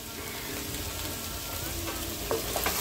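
Dried fenugreek leaves (kasuri methi) frying with ginger potatoes in a pan, a steady close sizzle and crackle throughout with a few sharper stirring clicks near the end.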